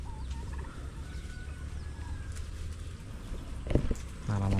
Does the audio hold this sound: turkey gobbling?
yes